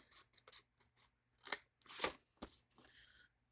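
Scissors snipping paper to make a gift box, a series of short crisp cuts in uneven bursts, close and clear with no talking.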